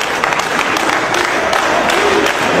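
A wrestling arena crowd roars and applauds in a steady, dense wash of cheering and clapping for Shawn Michaels during an Undertaker match, loud and continuous throughout.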